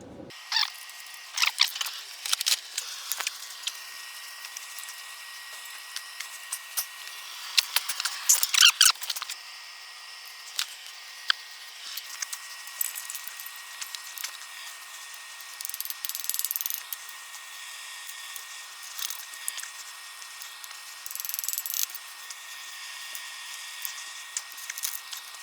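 Pushrod tubes on a VW T2 engine are turned into place, producing scattered light clicking and ratcheting metallic ticks, with small squeaks and scrapes at close range and no talking.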